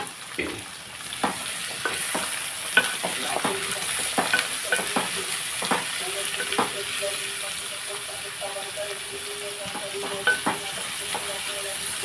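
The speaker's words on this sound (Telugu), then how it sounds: "ఇదండి ఉల్లిపాయలు మనం ఇప్పుడు బాగా కలిపేసుకుని" Onions and green chillies sizzle steadily in a pan while a utensil stirs them, leaving repeated scraping taps over a constant frying hiss.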